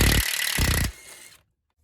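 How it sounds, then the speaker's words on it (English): Impact gun driven through a U-joint loosening a front control arm bolt on a 2014 Kia Sportage 2.0 CRDI: two loud, close hammering bursts with a brief pause between, then a quieter rattling tail that cuts off into silence. "for the last bit, I'm using the impact gun and a U-joint"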